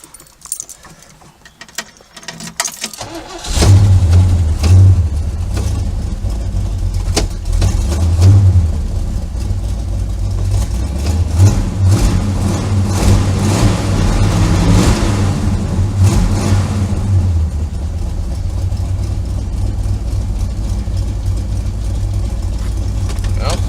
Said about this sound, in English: I'll at least get her started up and see if the thing's even gonna idle or anything